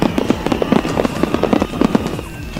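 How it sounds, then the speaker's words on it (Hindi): A loud fireworks display bursts in the sky with dense, overlapping crackles, pops and booming blasts in rapid succession, the sound staying continuous and close throughout. "चारों तरफ पटाखों की आवाज गूंजती सुनाई दी"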